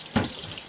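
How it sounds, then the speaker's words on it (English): Warm tap water runs into a kitchen sink while plastic containers are washed with dish liquid, a steady close-up rushing stream with a brief splash near the start. "I'm just going to wash these containers. Just a little bit of dishwashing liquid and some warm water."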